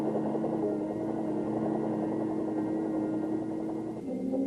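Military helicopters flying, a steady droning engine and rotor hum with a constant pitch that holds evenly, then shifts slightly near the end.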